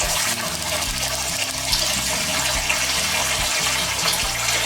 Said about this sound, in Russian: Включаем горячую воду и открываем.